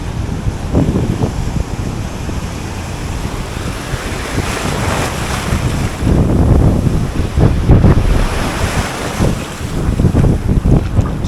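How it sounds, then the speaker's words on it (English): Strong wind gusts over the open sea on a morning fishing trip, roaring and buffeting the microphone with waves and water sloshing near a boat, loud and continuous with surging peaks. "that wind is kicking ass this morning"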